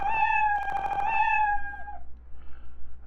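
A cat meow sound effect from a Scratch program, a long, drawn-out tone that bends downward at the end, with a brief rapid ticking pattern in the middle.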